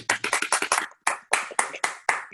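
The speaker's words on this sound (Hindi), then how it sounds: "जोरदार तालियां एक बार दोबारा हो जाए पटेली जी साहब के लिए" An audience at a live comedy and poetry show claps in sharp, rhythmic bursts, close and loud, briefly pausing before the claps resume.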